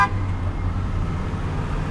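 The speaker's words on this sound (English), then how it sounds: "People honking at each other." Car horn tooting briefly at the start amid steady Las Vegas street traffic, with engine rumble and road noise continuing underneath at moderate level.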